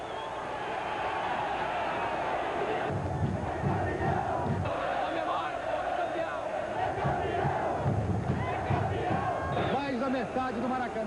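Botafogo football fans roar and chant across a packed Maracanã stadium, a continuous dense crowd din with rhythmic surges of shouting.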